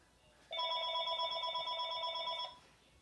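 A telephone rings inside a house, one steady electronic bell tone lasting about two seconds against a quiet room, then stopping, with no one talking.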